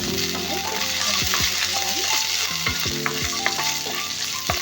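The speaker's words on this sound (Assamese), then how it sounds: "আদা নহৰুখিনি অলপ সময়ৰ কাৰণে ভাজি ল'ম" Ginger and garlic fry in a spoonful of oil in a wok over a gas flame, a steady close sizzle broken by repeated sharp clicks and scrapes of a stirring spoon.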